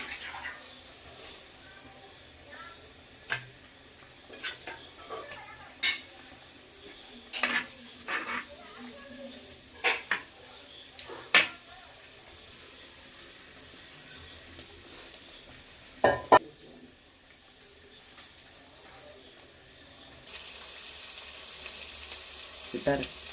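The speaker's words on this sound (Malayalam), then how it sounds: "മീൻകറി അരപ്പ് തിളച്ചിട്ടുണ്ട്. നമ്മൾ ഇനി മീൻ വാരി ഇടാൻ പോവാണ്." Fish pieces go into a pan of boiling Kerala-style fish curry masala, bringing a steady sizzle and bubbling with scattered clinks and stirring knocks, and a voice is heard at times.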